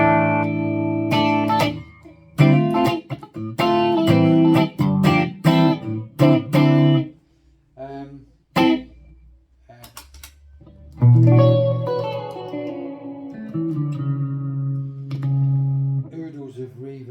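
A clean electric guitar tone through a Kemper Stage profiler, with picked chords and single notes ringing out in phrases separated by pauses and muted string clicks, played up close.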